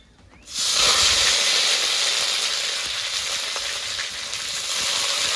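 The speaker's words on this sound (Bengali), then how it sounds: "2-3টে শুকনো লঙ্কা, কটা গোটা জিরে, এবার দিয়ে দেবো পেঁয়াজ বাটা" Onion paste hits hot oil already tempered with dried chillies and whole cumin, and bursts into a loud, steady sizzle. The frying hiss holds evenly throughout, close and continuous, with no talk.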